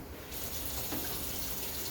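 Room-temperature tap water running to wet a fiberglass wrist splint, a steady close rushing flow that starts abruptly and continues alone.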